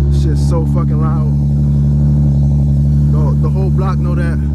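A loud Infiniti G37x sedan with an aftermarket cold air intake idles with a deep, steady drone close by, while someone talks over it.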